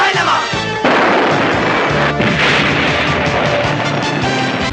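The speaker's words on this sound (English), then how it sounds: "and boy, does this show use explosions a lot" Loud, dense explosion effects from the 1983 tokusatsu series Kagaku Sentai Dynaman, one blast after another with booming impacts and crashing debris, no pause between them.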